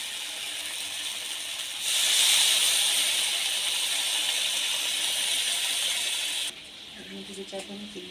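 Water is poured into a pan of fried spice masala for a spicy tengra fish curry, making a strong, steady hiss of steam and sizzle that swells and holds for several seconds, then drops away to a quieter bubbling.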